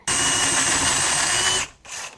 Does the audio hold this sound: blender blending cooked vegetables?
no